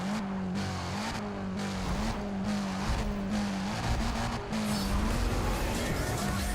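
A Porsche engine in the racing game Need for Speed: World holds high revs at the red line before launch, a loud, sustained buzzing drone that pulses rhythmically as it bounces off the limiter.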